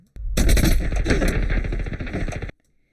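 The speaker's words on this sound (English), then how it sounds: "and there we get gunshots." Rapid automatic gunfire in a scene from Westworld, a dense, loud continuous burst lasting over two seconds that starts abruptly and cuts off sharply into silence.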